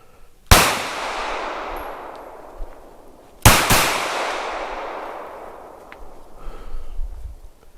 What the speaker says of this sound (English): I'm gonna fire some shots, I guess, to try to run the bear off.